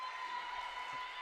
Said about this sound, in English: Well, you're hearing the crowd.